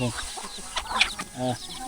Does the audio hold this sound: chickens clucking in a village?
yes